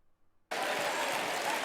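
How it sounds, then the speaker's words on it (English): Audience clapping erupts abruptly after near silence, a dense, loud, continuous burst of many hands that holds steady to the end. "They're just clapping."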